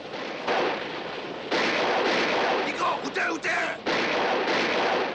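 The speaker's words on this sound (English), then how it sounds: "request naval gunfire this position" Heavy bursts of distant naval gunfire and shelling rumble in waves, with brief gaps between the loud volleys.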